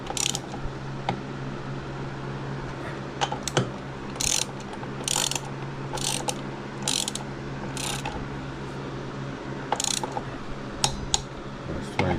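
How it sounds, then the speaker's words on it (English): Torque wrench ratcheting on the brake caliper bolts of a 2005 Honda Silver Wing, set to 22 foot-pounds: repeated sharp clicking pawl bursts in short irregular runs, close and moderately loud over a steady low background hum. "So we'll go and torque them on."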